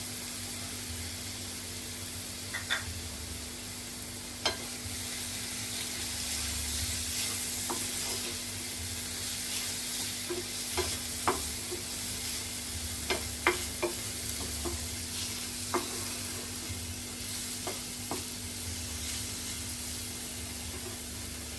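Steady sizzle of spices and turmeric in hot oil for tempering, a continuous hiss broken by scattered small pops and crackles.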